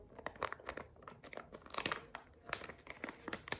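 A Gratis face mask packet is torn open, giving a run of crisp crinkling and crunching plastic-foil sounds in close, irregular bursts with no talking.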